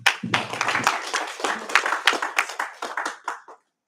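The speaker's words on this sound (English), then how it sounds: "Can we give them a round of applause?" A small audience claps after a team's presentation at a women's hackathon, a brisk round of close, distinct hand claps that thins out and stops abruptly.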